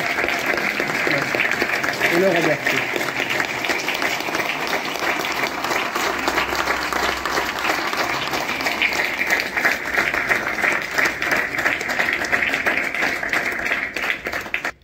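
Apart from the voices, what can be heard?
audience applause at a ceremony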